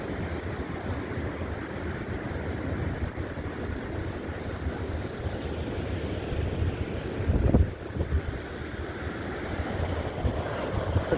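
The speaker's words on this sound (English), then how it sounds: "Look at these waves crashing." Ocean waves crash against rocks on the coast just north of Depoe Bay, a steady roaring surf mixed with gusty wind buffeting the microphone, with one heavier surge midway and no talking.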